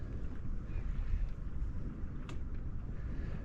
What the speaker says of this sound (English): once this wind dies off